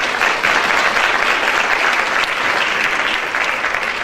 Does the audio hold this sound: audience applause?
yes